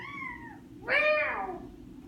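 A cat gives two clear, fairly close meows alongside singing in a violin lesson, the first a drawn-out falling call and the second louder and wavering, with no talk over them.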